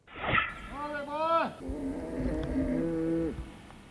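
Longhorn cattle on a farm in Gibson moo in long, drawn-out calls when called in for lunch, two or three loud, close lows following one another, with a brief human voice at the start.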